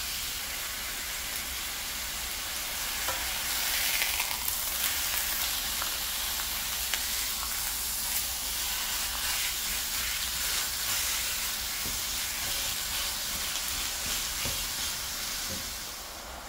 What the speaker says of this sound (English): I will put the turkey in. The turkey in the middle here and just press it like this.